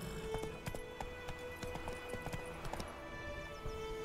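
Steady clip-clopping of horse hooves in The Witcher 3, a continuous rhythmic trot over a constant background hum, with no talking.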